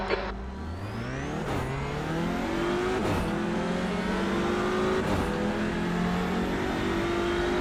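Audi RS3 TCR race car in the iRacing sim launching off the line, engine revving hard and climbing through gears, with other cars roaring close alongside, loud and continuous.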